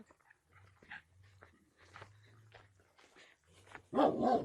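A dog at a farm growls low and steadily in short rumbling stretches, close by, then lets out a sudden loud bark at the end.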